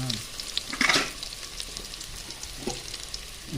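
Garlic and onion sauté in a hot pan with oil, giving a steady close sizzle and crackle and a few louder bursts and stirring scrapes, with no talking.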